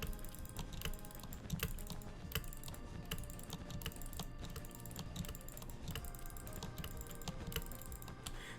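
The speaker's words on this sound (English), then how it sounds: "So like when you're going up, you can hear me jitter clicking." Rapid jitter clicking on a computer mouse while speedbridging in Minecraft, a dense, fast stream of small plastic clicks mixed with keyboard taps, quiet and close, with no voice.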